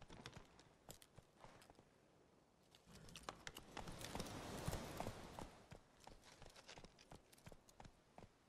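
Roach, Geralt's horse in The Witcher 3, trots along with a quiet, steady clip-clop of hooves. The hoofbeats swell slightly midway and then continue evenly.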